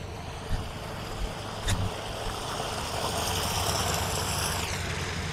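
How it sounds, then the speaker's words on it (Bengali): Floodwater pouring down beside a village road after heavy rain, a loud continuous rushing roar that stays steady throughout. "এখানে জল পড়ছে, একটা খুব ভালো আওয়াজ হচ্ছে।"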